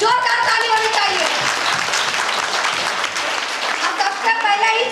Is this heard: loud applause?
yes